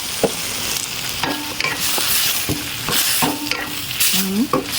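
Chinese kale and fresh shrimp are stir-fried in a pan, with loud, close sizzling under repeated scraping spatula strokes and a few brief clinks against the pan.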